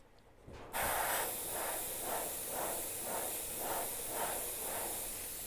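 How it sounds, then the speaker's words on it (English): Pulsing spray of paint from an airbrush, starting abruptly after a brief quiet moment and hissing steadily and close, with a regular rhythmic swell about twice a second. "So I'm spraying this."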